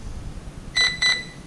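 Two short, bright electronic beeps from the speed controller of an Arrma Granite 4x4 3S BLX RC car during ESC programming, evenly spaced and close, over a quiet background.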